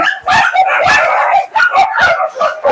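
Dachshunds and other small-breed dogs at a rescue property bark and yip nonstop in a loud, close chorus, with a few whimpering, howl-like cries mixed in.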